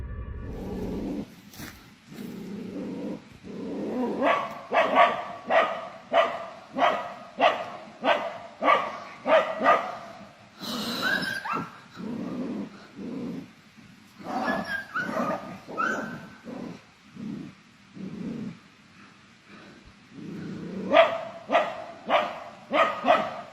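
A dog at a campsite barks in full defense mode, a long series of loud, close, rhythmic barks with brief pauses, mixed with a few whimpers and yips.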